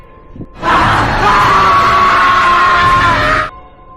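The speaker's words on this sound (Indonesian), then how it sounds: "Lalu mereka berdua pun beradu skrim." A loud, sustained scream of several people from the Indonesian horror film Suster Keramas 2 bursts in abruptly, holds at full volume for about three seconds, then cuts off.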